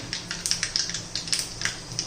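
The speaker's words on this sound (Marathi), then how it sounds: "हे पण मोहरी आता तडतड करायला लागलेली आहे" Mustard seeds spluttering in hot oil for a tadka tempering while cooking a rajma curry. Quick, irregular crackles and pops run continuously and faintly, with no talking.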